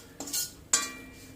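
Roasted masala and salt stirred into beetroot rice in a pan, two sharp metal spoon scrapes against the pan with brief clinks, close and quiet.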